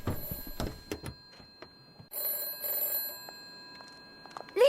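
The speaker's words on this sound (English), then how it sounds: "the phone starts ringing" A telephone bell rings in an audio drama, a bright electronic trill that stops and starts in two bursts with a quieter gap between them. It is moderately loud, and scattered bumps and faint room noise are heard before it.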